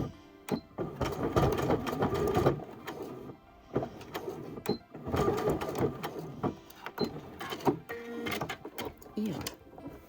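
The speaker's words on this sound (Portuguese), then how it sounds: "Vamos começar por refazer aqui o remate desta costura" A sewing machine stitching fabric while finishing a seam on a boxy toiletry bag, its motor whirring in steady bursts separated by short pauses, close and moderately loud.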